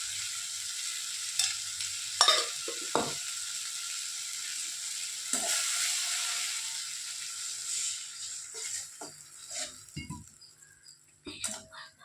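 Chopped tomatoes sautéing in a pan for a home-cooked Tamil lunch dish, a soft steady sizzle with scattered spoon scrapes and stirring knocks, a few faint bird chirps in the background.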